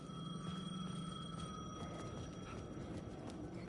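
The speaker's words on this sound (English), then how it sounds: "The payphone was ringing." A payphone rings in the video game Alan Wake, a thin, steady electronic trill that holds without a break at moderate-to-faint level, with no talk.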